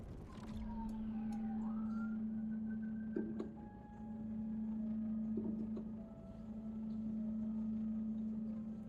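Sci-fi spacecraft boost in the video game SpaceCraft: a steady droning engine hum with a rising, siren-like sweeping tone and faint clicks, looping continuously and fairly loud with no voices.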